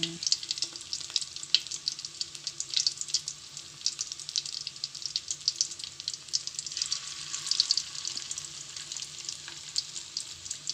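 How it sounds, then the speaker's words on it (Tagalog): Corned beef coated in egg and flour fries in hot oil, a steady close sizzle with crackling bursts that continues without pause. "Piniprito na po natin yung corned beef na nilagyan natin ng harina."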